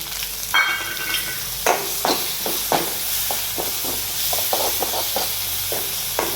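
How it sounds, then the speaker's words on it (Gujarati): Mustard seeds, cumin and asafoetida crackle in hot oil as a tempering for a vegetable sambharo relish, with steady sizzling broken by repeated sharp spoon scrapes and stirring clicks close by. "તેલ ગરમ થઈ ગયું છે તો આપણે રાઈ જીરું અને હિંગ નાખી અને કારેકડાનો જે છે સંભારો એ આપણે વઘારી નાખીએ"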